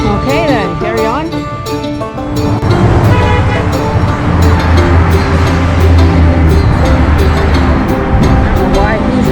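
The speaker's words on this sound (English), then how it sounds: "I don't know why he's honking." A car horn toots several times in short bursts amid busy roadway traffic and engine rumble, heard from a bicycle on a busy road in Mérida, Yucatán, with people talking over the noise.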